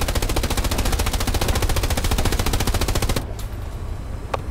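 A long, rapid burst of machine gun fire with tracers in the video game Hell Let Loose hammers out loud and close for about three seconds, then cuts off, leaving faint background rumble and a couple of distant shots.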